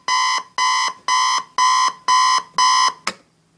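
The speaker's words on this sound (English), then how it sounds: "if you hit the alarm, it has that little buzzing noise" Buzzer alarm of a 1993 GE 7-4612B digital clock radio: six loud, evenly spaced electronic buzzes, each about a third of a second long, then a sharp click as the alarm is switched off.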